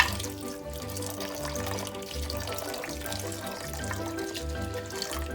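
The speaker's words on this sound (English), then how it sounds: "And I add enough water just to cover the rice." Water poured from a tap into a pot of rice, a steady close trickle and splash with a faint hum running underneath, no talking.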